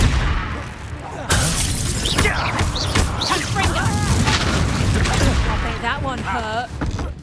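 Repeated Confringo fire-blast spell explosions in the Hogwarts Legacy video game, loud booming impacts with crashing debris over busy game sound, with a voice speaking partway through.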